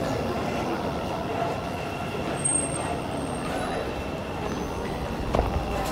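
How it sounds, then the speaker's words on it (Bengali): A train at a London railway station, a steady low rumble of rolling carriages with station hubbub around it and a couple of brief metallic clanks. "এটা হচ্ছে লন্ডন ট্রেন স্টেশন"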